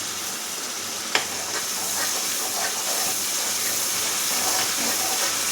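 Ginger garlic paste being stirred and fried in a pan for a spiced potato dish, a continuous hissing sizzle with one sharp tap early on and soft scraping of stirring, no talking.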